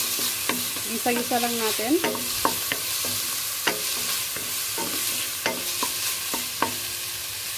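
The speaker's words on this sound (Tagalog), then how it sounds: "ilalagay natin yung ating marinated na beef kanina" Marinated beef frying in a pan with lemongrass, a steady close sizzle broken by sharp clacks of a spatula stirring, with a brief spoken remark over it.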